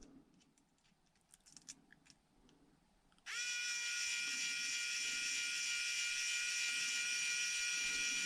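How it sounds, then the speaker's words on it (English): Electric screwdriver driving a screw into a 1.0-inch stamped steel beadlock RC wheel for an SCX24 micro truck, starting abruptly after quiet handling noises and then whining steadily and loudly at close range, with no talk. "such a electric screwdriver is super handy"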